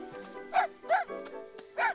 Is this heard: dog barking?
yes